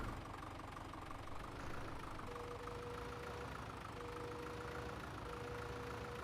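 Tractor engine in Farming Simulator 17 idling steadily with a low rumbling drone and faint tonal whine, continuous and moderately quiet, with no talking over it.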